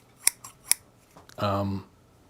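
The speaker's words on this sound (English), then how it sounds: "Scissors." Hand-forged blacksmith-made scissors snipping open and shut, three crisp metallic clicks in quick succession, followed by a voice speaking briefly.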